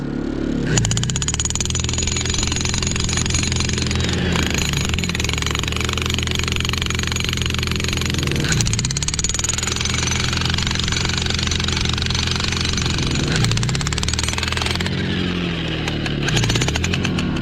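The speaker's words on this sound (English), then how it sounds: "The jackhammer doesn't have enough pressure, enough power to do that." A loud, close jackhammer lacking pressure pounds away continuously at rock on a mining claim, its rapid hammering steady for the whole stretch with only brief dips in intensity.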